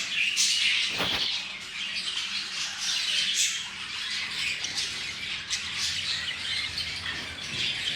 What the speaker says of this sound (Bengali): আপনারা দেখছেন কত সুন্দর সুন্দর পাখি